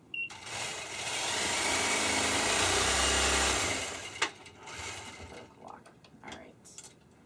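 A longarm quilting machine stitches a pantograph down one side, its steady mechanical hum and rapid needle running loud for about four seconds before stopping, followed by a sharp click and quieter handling noises.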